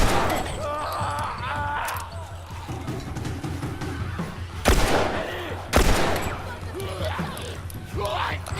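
Gunfire in The Last of Us Remastered on PS4, with two sharp loud shots spaced about a second apart among game sounds, while someone talks throughout.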